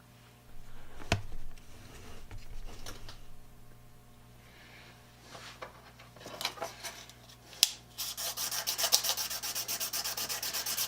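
Small knicker of a rebate plane sharpened by hand, soft irregular rubbing and scraping strokes close by, with a few sharp ticks and a denser rasping passage toward the end, quiet and without speech.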